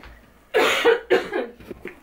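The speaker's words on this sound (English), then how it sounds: "I keep coughing because I was sick" A person coughs a few times in a row, harsh bursts close to the microphone, then trailing off into smaller throaty sounds.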